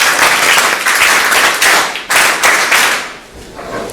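Students at a school clap together in a close, loud burst, with sharp rhythmic clap bursts repeating in uneven waves before thinning out near the end.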